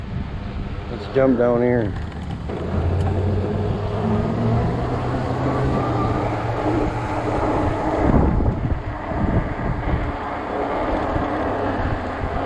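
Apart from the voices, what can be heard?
strong wind while riding an e-bike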